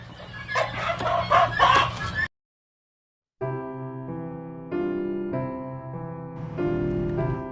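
Large-framed three-way crossbred chickens (Kolon, Phu Phan black chicken and Vietnamese big-footed breed) on a farm crow loudly and cluck in close, repeated calls, broken by a brief silent gap.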